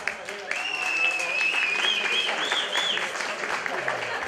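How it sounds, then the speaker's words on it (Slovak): Applause from a group at a community team game event, clapping under a bright whistled or tonal melody and some voices, sustained across the whole stretch. "Potlesk pre prvého kapitána."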